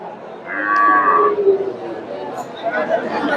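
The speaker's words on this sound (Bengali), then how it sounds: "এখানে একটা দেখেন ক্রোসের গাভী" A crossbred dairy cow gives a long, loud moo close by, while people chatter in the background of a busy outdoor cattle market in Gabtoli, Bogura.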